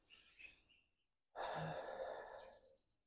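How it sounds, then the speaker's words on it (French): A single deep breath for relaxation, a long close exhale like a sigh after a short quiet pause, with no talk. "Des techniques de relaxation comme la respiration profonde."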